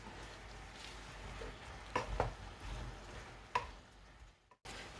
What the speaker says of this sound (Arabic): بعد ما سخناتني الزيت غنلوحو الدنجال واحد شويه وغادي نشحرو